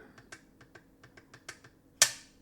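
A series of sharp plastic clicks snaps at an irregular pace, close and fairly quiet, capped by one louder spring-back snap: sim racing wheel paddle shifters being pulled and released.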